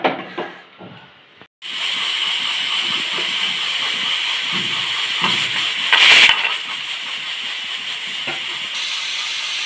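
Pressure cooker whistle releasing steam while cooking cucumber dal, a loud sustained hiss that starts abruptly after a few faint kitchen noises and holds steady, swelling briefly partway through.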